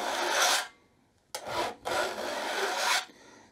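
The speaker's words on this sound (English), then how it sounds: "And while you're doing this filing, just make sure you have complete control over the file and the teeth" A metal file run across handsaw teeth while re-toothing a clamped saw plate, two long harsh rasping strokes and a short one, loud and close with brief pauses between strokes and no talking.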